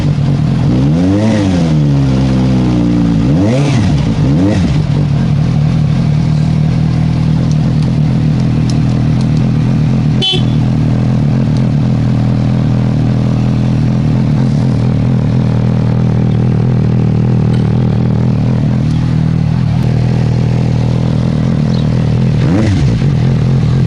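A Suzuki GSR 750 motorcycle engine, just given an oil change, idles loudly and is blipped in a few sharp revs early on, then settles into a steady, close rumble with a brief click midway.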